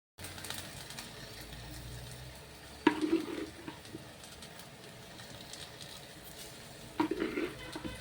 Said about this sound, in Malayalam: നമ്മളിതാ സാമ്പാർക്ക് വേണ്ട വെണ്ടക്കായ ഇതാ ഒന്ന് മൂപ്പിച്ചെടുക്കണതോ